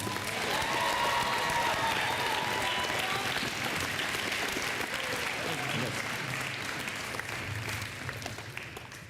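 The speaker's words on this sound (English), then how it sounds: "Let's give one more round of applause for middle school cross country." A school fall sports ceremony crowd applauds middle school cross country runners, sustained dense clapping for around nine seconds with a few faint cheers and low murmuring underneath, tapering slightly at the end.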